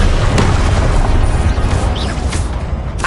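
The Confringo fire-blast spell explodes in the Hogwarts Legacy video game as a loud, continuous booming roar with sharp bursts layered on top, filling the whole moment with no voices.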